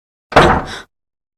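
A door shuts with one quick solid thud and a brief rattle, close and fairly loud, followed by silence.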